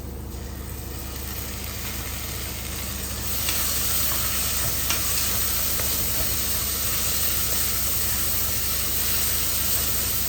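Garlic and ginger fry in oil for a quail roast, giving a constant loud sizzle and hiss with faint stirring, close and without talk.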